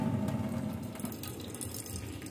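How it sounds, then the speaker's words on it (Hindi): Hot water strained off boiled vermicelli pours and splashes into a kitchen sink, a loud close gush that eases slightly toward the end. "गरम पानी को छान लेंगे और इसमें हम थोड़ा सा ठंडा पानी मिला देंगे।"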